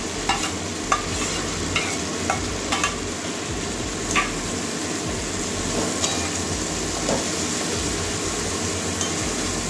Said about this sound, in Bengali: মাথাটাও একটু কষিয়ে নেবো মশলার সঙ্গে ভালো করে।